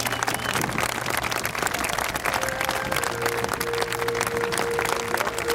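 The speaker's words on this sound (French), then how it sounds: "Vous pouvez les applaudir, c'était pas facile." A crowd at a paratrooper carrousel ceremony applauds the parachutists after their final jump, a dense, steady, loud clapping that lasts throughout, with a faint tonal hum and murmur beneath.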